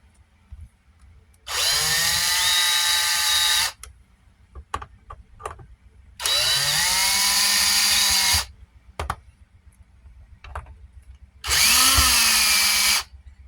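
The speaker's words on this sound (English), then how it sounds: "I've acquired a cordless drill and bit" A cordless drill fitted with a bit whirs in three separate bursts of about two seconds each, loud and close, with quiet gaps and a few small clicks and handling knocks between runs.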